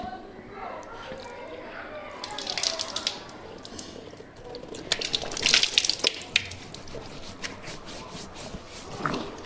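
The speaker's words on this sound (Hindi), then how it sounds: "मैंने पानी लिया, चेहरे पे हमने मारा।" Water is scooped and splashed onto the face during wudu ablution, giving a few soft splashes and drips with quiet running water beneath and a voice talking throughout.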